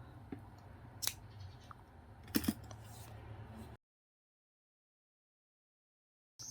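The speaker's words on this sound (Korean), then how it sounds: "한 번 더 떠서 잘라주세요." Scissors cut crochet yarn close by, giving a couple of crisp snips over faint handling noise, then silence.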